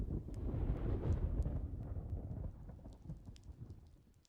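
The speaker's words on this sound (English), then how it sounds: "Uh-oh, he's causing a storm." A thunderstorm in the Super Mario RPG video game rolls in with a loud low rumble of thunder over steady rain, the rumble easing halfway through while raindrops continue with light patter.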